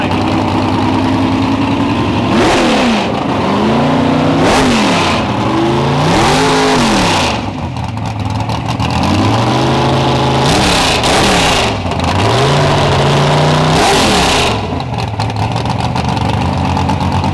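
A long-standing drag race car's engine is revved hard at a drag event and car show, with loud repeated throttle blips and rising, falling revs over a rough idle, close by and without talk.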